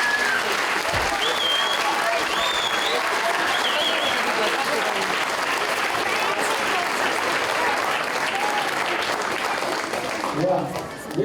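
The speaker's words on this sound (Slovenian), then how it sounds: "En velik aplavz za vse naše učence." Sustained applause from a large crowd at a school Christmas concert, steady and dense for about ten seconds, then tapering off with a few voices near the end.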